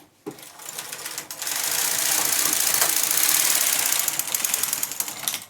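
Knitting machine carriage knitting a zigzag row, a rapid mechanical clatter that rises into a steady whirring rattle lasting several seconds, close and fairly loud, then trails off with lighter clicks.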